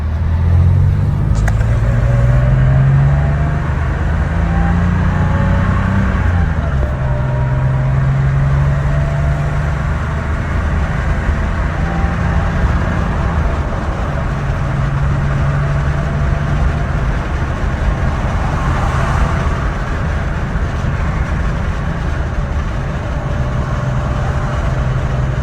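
A 1988 Porsche 911 with about 50K miles runs steadily, its engine giving a continuous low rumble and drone close by, with a slight rise in pitch early on and no talking over it.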